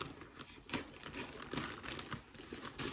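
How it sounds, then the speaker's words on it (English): Plastic packaging from an Amazon order being ripped and crinkled by hand, a close, quiet run of crackling tears and rustles without talk. "I'm over here trying to rip this thing"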